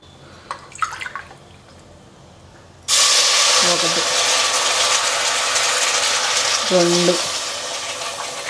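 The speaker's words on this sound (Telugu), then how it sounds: "5 గ్లాసులు నీళ్ళు పోసేయమన్నారు" Glasses of water are poured into a pot of hot ghee for millet pongal, setting off a sudden loud sizzling hiss that keeps going, while a person counts aloud before and during the pour.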